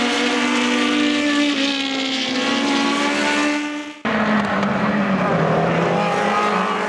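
Monoposto Racing F70 race cars roar past at the start of a feature race at Virginia International Raceway's NASCAR Bend, loud high-pitched engines, a brief dip and then another car screaming by up close.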